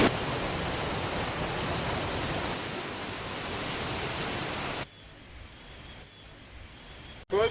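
Salto del Diablo waterfall on the Río Claro, a steady broadband roar of falling water that drops abruptly to a quieter wash partway through, then surges loud again at the very end.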